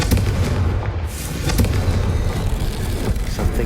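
A Confringo explosion spell fires in the video game Hogwarts Legacy, producing a loud, sustained rumbling blast with crackling bursts layered through a dense, booming roar, close and continuous, with no speech.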